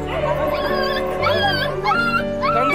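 A puppy being rescued whimpers and yips in high, wavering cries, loud and close, repeating throughout with a continuous background underneath.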